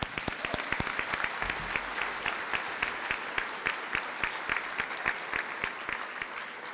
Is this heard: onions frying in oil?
no